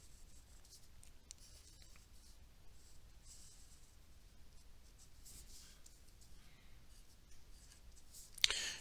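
Pen or marker scratching across paper or a writing surface while a right triangle is drawn by hand for a trig substitution problem, soft continuous strokes with a brief louder scrape near the end, no talking.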